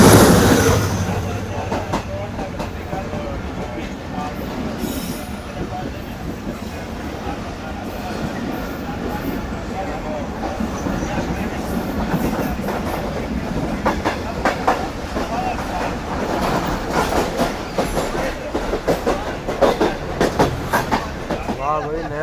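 A Karakoram Express passenger train hauled by a ZCU20 locomotive rolls steadily along the rails with a continuous loud rumble and rhythmic clickety-clack of wheels over joints, heard from on board with faint voices in the background.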